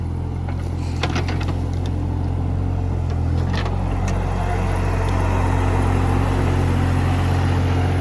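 JCB 30 Plus backhoe loader engine running steadily while digging soil at a work site, a loud constant low diesel drone with faint clanks above it, no talking.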